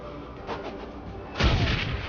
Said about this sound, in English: Are you close enough to toss a grenade?